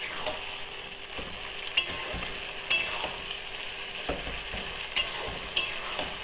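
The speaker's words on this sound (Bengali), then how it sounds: "মশলাটা মাংসের সঙ্গে বেশ ভালো করে মিশিয়ে নিতে হবে।" Masala stirred into mutton in a pan, making a steady low sizzle broken by sharp spoon clacks and scrapes every second or so, close by, with no talking.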